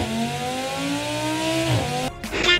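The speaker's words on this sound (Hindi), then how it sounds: "ओडी R8 का इंजन एक नेचुरल एस्पिरेटेड इंजन था, जो इसकी रॉ पावर और साउंड के लिए फेमस है।" An Audi R8 with a naturally aspirated engine holds a steady, loud drone for about two seconds, then its note shifts sharply near the end as it revs or changes gear, with no talking.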